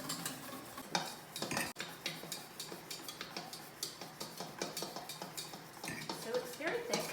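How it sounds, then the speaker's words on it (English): Rapid whisking of a thick sauce in a bowl as melted butter is drizzled in, a quick regular clatter of metal whisk against the dish, fairly quiet and close, with no talking. "Now I'm going to slowly, while I'm whipping, drizzle in the butter"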